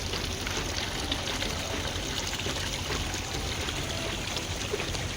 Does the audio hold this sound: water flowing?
yes